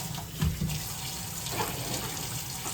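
Water runs steadily from a kitchen tap into the sink during dishwashing, a soft continuous hiss with a few faint clinks of dishes, fairly quiet and close.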